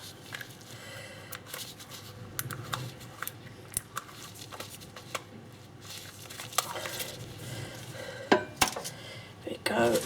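A lid is set onto a small container of warm food-colouring dye, with a few sharp clinks and light knocks of dishware and utensils, close and clear, amid quiet handling sounds.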